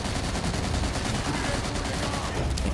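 Rapid machine gun fire in the World War II shooter World at War, dense continuous bursts of loud gunfire with a French-speaking voice faintly under the shots.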